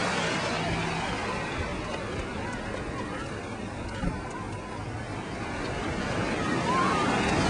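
Surf rolls onto Black Sand Beach at Shelter Cove in a continuous, fairly loud wash of breaking waves, steady throughout with no distinct voices.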